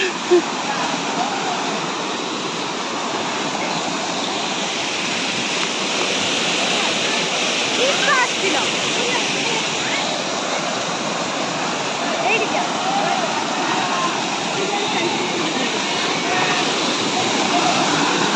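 Strong rushing water at a picnic spot in Mayurbhanj, a loud, continuous roar of torrent that stays close and steady throughout and almost fills the scene.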